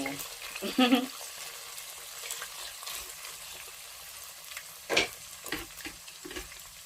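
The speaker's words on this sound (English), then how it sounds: "the oil is hot, so I'm going to pour my prawns. I'm going to stir fry this a bit" Prawns stir-frying in hot oil for an efo elegusi dish, a steady soft sizzle with a couple of sharper clatters of stirring, heard close under quiet room sound.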